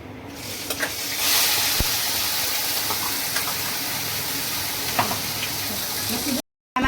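Gravy hits a hot pan with asafoetida and turmeric, breaking into a loud, steady sizzle that hisses continuously for several seconds, with faint stirring clinks and a brief voice in the background.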